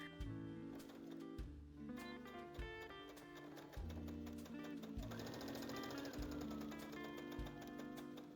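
Sewing machine stitching the side seams of a bow tie top and its lining, a fast rhythmic chatter of needle strokes running continuously at close range, with no talking.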